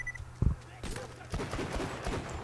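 Shotgun blasts from the video game Borderlands 2, a few heavy booming shots spaced apart and mixed with game clatter, while someone talks over them.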